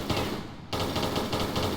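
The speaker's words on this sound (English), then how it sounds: "That's how you spam your pistols." Rapid pistol fire in the video game Tomb Raider III, a dense, continuous burst of loud, closely spaced shots.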